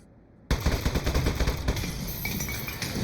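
After half a second of near silence, a turret in the game Aperture Desk Job opens up with rapid, close, loud automatic fire, shots rattling on in a fast steady stream to the end.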